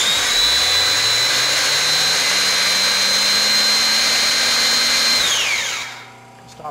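A Creative Metal Works hydraulic scroll bender drones steadily as it bends metal around a die, a loud, constant motor and pump whine ramping up at the start, holding, then winding down.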